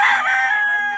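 A fighting gamecock from a gamefowl farm crows loudly and close by, a single sustained call filling the whole second with no talk over it.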